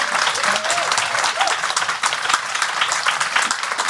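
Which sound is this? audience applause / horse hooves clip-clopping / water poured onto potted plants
audience applause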